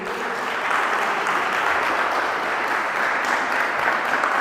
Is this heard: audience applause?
yes